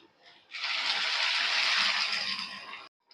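Boiled tamarind water is poured into a simmering eggplant curry, a single steady gushing pour lasting about two seconds before cutting off abruptly.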